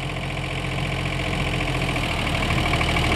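A newly fitted motor runs steadily at idle, a continuous mid-to-low engine drone with a slight knocking vibration, close and constant in level throughout with no talk.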